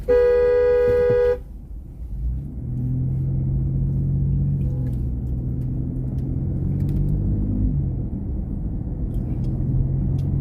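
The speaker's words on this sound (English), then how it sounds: "So the F-150 in front of me honked his horn loud at me as well." A Ford F-150 pickup truck sounds a loud, sustained horn blast in gridlocked traffic, cutting off after about a second, followed by a steady low rumble of idling vehicles close by.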